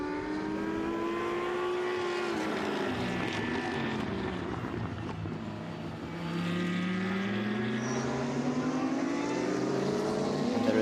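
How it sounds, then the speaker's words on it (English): A KTM endurance race car at the Most circuit slows through a turn into the pits, its engine droning loud and close with pitch sweeping down and back up as it changes gears, other engines blending in. "That's the leading KTM, but it is now taking the turn and coming into the pits."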